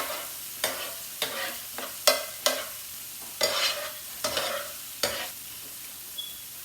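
Onions and minced garlic sautéing in a pan, stirred in about eight separate spatula scrapes over a low, steady sizzle, heard up close with no talking.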